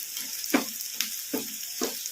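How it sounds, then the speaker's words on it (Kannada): Onions and curry leaves fry over a medium flame in a pan for an eggplant gojju, a steady soft sizzle broken by a few sharp stirring scrapes, close and without any voice. "ಉಳ್ಳಾಗಡ್ಡಿ ಗೋಲ್ಡನ್ ಬ್ರೌನ್ ಕಲರ್ ಬರೋವರೆಗೂ ಫ್ರೈ ಮಾಡ್ಕೋಬೇಕು"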